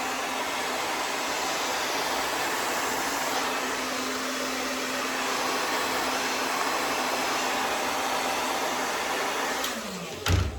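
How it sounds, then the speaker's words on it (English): Handheld blow dryer on a cool setting drying styled hair, a steady, loud whooshing roar that runs continuously for about ten seconds before a brief clunk as it cuts off. "Use a blow dryer. I always use it on a cooler setting."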